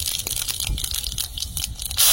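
Panch phoron, five whole spices, crackles and spits in hot oil in a wok, a dense run of small pops and sizzle without speech, ending in a louder burst of hiss.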